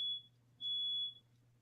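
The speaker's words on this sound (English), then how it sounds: "Yes, my fire alarms are going off again." A fire alarm gives two shrill high beeps, the second longer than the first, over a low steady hum, with no one speaking.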